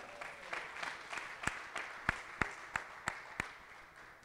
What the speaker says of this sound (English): please welcome, big applause for Mr. Juan Antonio Saavedra